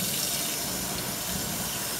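Aqua Flo brush held under running water from a tap, a steady faint hiss of flowing water with no voices.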